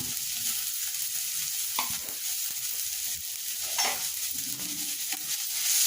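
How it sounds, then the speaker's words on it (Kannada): Onion, garlic and ginger fry in a pan with a continuous close sizzle, occasional spatula scrapes and soft knocks breaking through now and then; no one speaks. "ಫಸ್ಟು ಈರುಳ್ಳಿ ಫ್ರೈ ಆಗ್ತಾಯಿದೆ, ಬೆಳ್ಳುಳ್ಳಿ ಹಾಕ್ತಾಯಿದ್ದೀನಿ."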